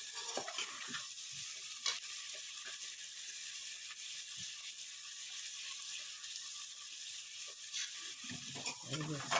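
Carrots, beans, papaya and potato frying in a pan of tempered spices for bhuna khichuri, a steady close sizzle broken by scraping stirring strokes throughout.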